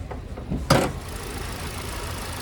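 A 2-liter four-cylinder engine idles in the open engine bay of a 2025 Toyota Corolla Cross XLE AWD, giving a steady low hum with one brief clunk early on.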